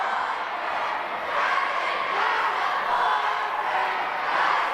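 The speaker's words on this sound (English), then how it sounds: "Crowd still on Tyson Dux about the boyfriend comment from Christian Cage earlier in the match." Wrestling arena crowd during a tag team match, a steady, dense roar of voices with jeering swells rising and falling throughout, loud and continuous with no clear individual words.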